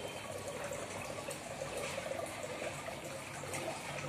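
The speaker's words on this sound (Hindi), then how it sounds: "देखिए मेरा ऑक्सीजन काम करना चालू कर दिया है" An aquarium oxygen air pump bubbling in a small fish bowl: a steady, soft bubbling and trickling of water that continues evenly without talk.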